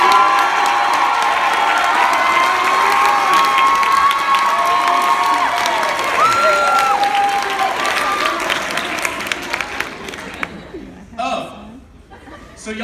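Audience at a 2018 high school talent show cheers and claps loudly for a stand-up comedy act, a dense sustained roar with whoops, thinning toward the end as a voice begins speaking.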